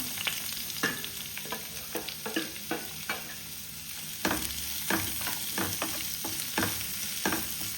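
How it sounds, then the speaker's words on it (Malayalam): Green chilies and chopped onion fry in hot oil, giving a steady close sizzle with irregular scraping clicks of a spoon stirring through the pan, no talking. "നമുക്ക് പച്ചമുളകും സവാള ഇതിലിട്ട് കൊടുക്കാം."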